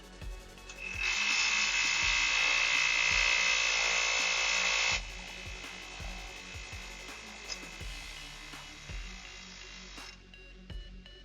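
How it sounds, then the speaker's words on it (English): An old Stanley pneumatic air hammer runs in a steady, loud burst of about four seconds during ball joint work on a Chevy Trailblazer, followed by quieter rhythmic mechanical clatter. "Just get a cheap Stanley air hammer that I've had for probably 20 years."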